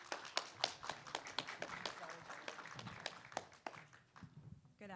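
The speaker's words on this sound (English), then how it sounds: "So let's give her a round of applause." Sparse, uneven clapping from a small convention audience rises and thins out, with individual claps sharp and close and faint voices beneath.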